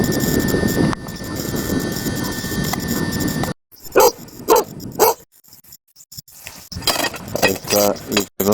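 A borrowed dog barks outdoors at Seljahlíð during a search, in several sharp, loud bursts separated by quiet gaps, following a stretch of rumbling noise.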